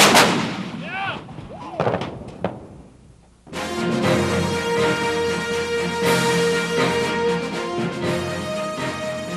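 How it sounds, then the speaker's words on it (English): Artillery fires several sharp, booming shots in quick succession over about three seconds, then falls quiet before a loud, sustained music-like drone takes over. "makes modern artillery so formidable a weapon on the modern battlefield"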